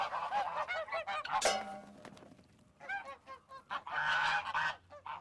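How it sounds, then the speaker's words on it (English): A small flock of geese honking loudly and repeatedly at close range, overlapping calls in irregular bursts with short pauses between them. "Bunch of geese."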